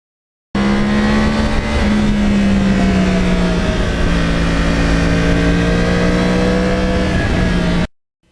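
A Yamaha R1 Crossplane motorcycle engine pulls steadily while riding back roads in lower New York, a loud, close, sustained drone with a smoothly gliding pitch that cuts off abruptly at the end.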